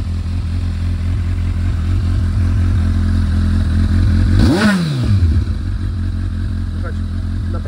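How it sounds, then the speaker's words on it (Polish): A 2008 Honda CBF 1000 motorcycle idles steadily and low through exhausts without dB killers, with a brief rising-and-falling whoosh of another vehicle passing by in the middle. "Naprawdę nie są bardzo głośne te wydechy"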